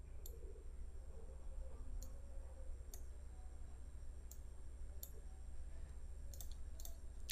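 Computer mouse clicks while editing in Microsoft Publisher: a handful of faint, sharp, irregularly spaced clicks over a low steady room hum.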